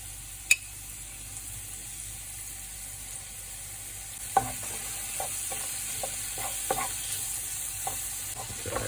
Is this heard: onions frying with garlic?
yes